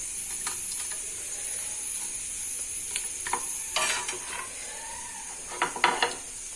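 Karimeen, pearl spot fish, fried in hot coconut oil, a steady high hiss with scattered clinks and scraping stirs from a pan, close and moderately loud, no voices.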